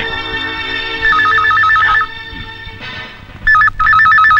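An electronic telephone ringtone trills loudly in two warbling bursts with a pause between, heard close and clear in a quiet indoor scene from a Bangladeshi film.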